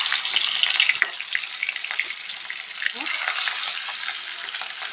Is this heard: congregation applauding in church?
no